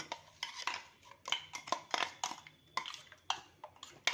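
A spoon stirs paste into dudhpak milk pudding in a pot, giving repeated clinking scrapes against the metal in an uneven rhythm, close and fairly crisp, with no talking.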